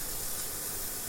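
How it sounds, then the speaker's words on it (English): A beef burger sizzles in a hot pan, a steady, bright hiss of frying fat that runs loud and unbroken, close to the pan. "You'll hear a sizzle, which tells you the pan is hot enough."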